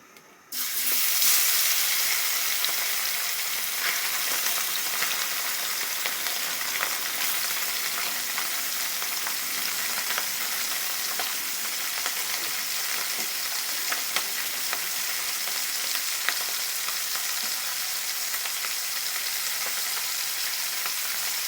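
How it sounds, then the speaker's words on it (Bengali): Fish sizzles in a small amount of white cooking oil in a pan, a loud, dense, continuous frying hiss that starts abruptly and holds steady, with faint crackles and no voices. "আমরা এখন মাছগুলো তেলে ভেজে নেব"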